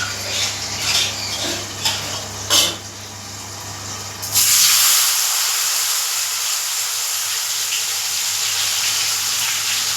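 Paneer pieces hit hot oil in a kadai and burst into a loud, steady sizzling hiss that runs unbroken to the end, after a few utensil clinks at the start.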